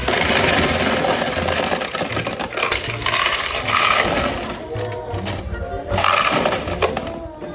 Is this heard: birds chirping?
no